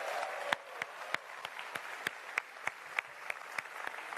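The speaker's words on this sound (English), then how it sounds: "a huge round of applause for the Jurassic World Evolution developers" Audience applause for game developers at the Frontier Expo 2017 panel, a fairly faint, thin clapping with distinct individual claps spaced in a loose rhythm, heard from a distance.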